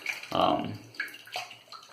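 Water is poured into Italian Barber Amici shaving lather during a wet shave, giving a short, close splash and trickle with a voice speaking over it.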